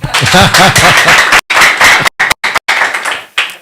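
A church audience at a preacher's sermon breaks into dense, loud clapping right after a voice, the applause sounding close and continuous but chopped by several brief silences.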